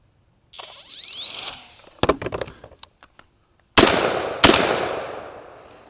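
Shotgun blasts aimed at clay targets launched from a Caldwell ClayCopter, with a whirring launch followed by scattered sharp cracks and then two loud, close shots with long echoing decay.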